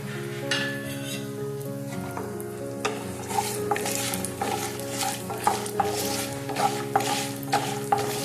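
Chana dal, urad dal, mustard seeds and cashews fry in oil in a kadai, giving a steady sizzle marked by repeated metallic scrapes and clinks of a ladle stirring against the pan, close-up, with no talk.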